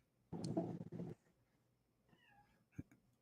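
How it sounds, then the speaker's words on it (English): A single drawn-out cat meow, close and fairly loud, followed by quieter rustling and a faint chirping sound. "there's a cat bugging me"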